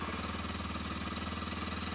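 A cheap supermoto motorcycle's single engine idles close by with a fast, even, pulsing thump that holds steady throughout.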